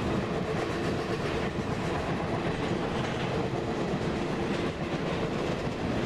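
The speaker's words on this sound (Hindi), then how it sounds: "ट्रेन देखने के लिए मिलेगी, ये तो आ भी गई सामने, गजब वाली स्पीड में आ रही है कोई" An Indian Railways express train rushes past at high speed in an Open Rails (MSTS) simulator, a loud sustained rumble with rhythmic clickety-clack of wheels and no voices.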